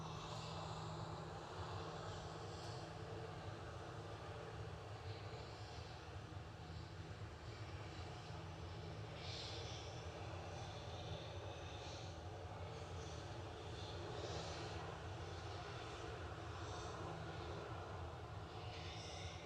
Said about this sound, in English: GZUA departing next to Amsterdam for EasyJet with Flight 2161